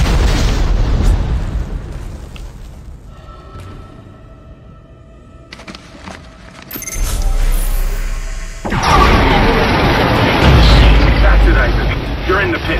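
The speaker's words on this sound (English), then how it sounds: "The cannon's a mass driver, so it should punch through anything flying at us." Heavy mass driver cannon fire in the Dead Space asteroid-defense turret sequence, loud booming blasts and explosive bursts rolling through a dense, noisy mix with speech over parts of it.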